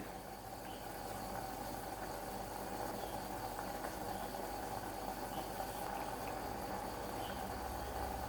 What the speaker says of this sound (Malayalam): രസം നന്നായിട്ട് തിളച്ചിട്ടുണ്ട്.